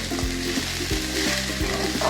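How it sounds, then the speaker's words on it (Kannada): Chopped cabbage hitting hot tempering in a pan, crackling and sizzling close up, with a few quick stirring scrapes of a spoon against the metal. "ಈಗ ಹೆಚ್ಚಿದ ಕೋಸ್ ಹಾಕ್ತಾಯಿದ್ದೀನಿ."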